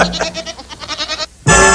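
Goat bleating, several short wavering calls in quick succession, then a louder burst of cries near the end; the calls are heard alone, with no talk over them.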